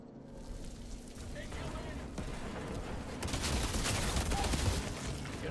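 Assault rifle fire in the Outriders game rattles in dense, noisy bursts that grow heavier toward the end, a steady crackling fusillade.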